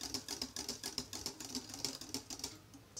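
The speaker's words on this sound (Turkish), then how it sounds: "Biraz daha çırpacağız." Cold milk being whisked by hand for homemade banana ice cream, a fast steady patter of quick rhythmic strokes that stays fairly quiet and continuous throughout.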